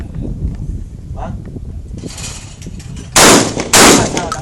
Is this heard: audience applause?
no